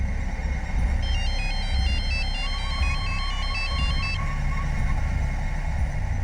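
A phone ringtone chirps in a repeating electronic pattern for about three seconds, moderately loud over a low rumbling background, then stops.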